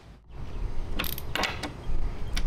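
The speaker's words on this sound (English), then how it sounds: "we can go ahead and snug them down and snug down the tailgate uh, hinge bolts as well" A ratchet tightens the spare tire carrier bolts on a Ford Bronco in a few quick bursts of close, crisp clicking, with some light mechanical clatter between strokes.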